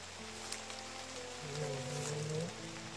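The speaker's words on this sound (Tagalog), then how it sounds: "Ulan na, eh. Ulan na ba?" Rain falling outdoors, a steady soft hiss of drops on surfaces, with faint low tonal sounds drifting through in the background and no speech.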